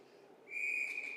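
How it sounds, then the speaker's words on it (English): A referee's whistle at an ice hockey game between the Madison Capitols and Milwaukee Admirals: a single sharp, steady blast begins partway in and holds, loud and shrill over the dull murmur of the arena. "Quick whistle there."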